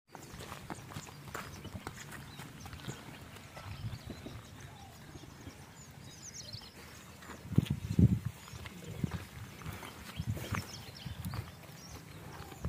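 Native-breed mares, including a pregnant four-to-five-year-old at a horse sale, shuffle and step with soft, irregular hoof clops over steady background noise, with a louder cluster of hoof and movement sounds partway through.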